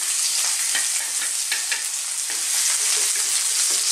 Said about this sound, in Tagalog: Lalagay na natin yung sili,